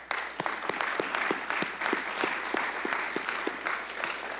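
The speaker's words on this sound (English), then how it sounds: "Please give yourself a round of applause." Steady applause from an audience at a police department swearing-in and promotion ceremony, dense and sustained clapping throughout with a few sharper claps standing out.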